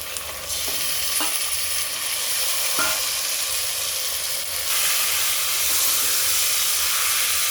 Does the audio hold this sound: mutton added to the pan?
yes